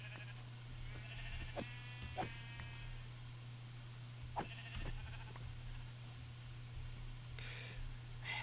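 Several sheep bleats from the Minecraft video game ring out over a steady low hum, short wavering calls spaced a second or two apart, with a soft rustle near the end.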